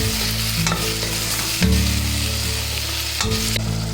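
Steady sizzling of a tomato mixture frying in a pan, with a spoon scraping and stirring through it several times, close and continuous.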